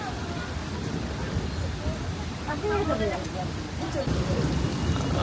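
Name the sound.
rain falling on a street in Suzhou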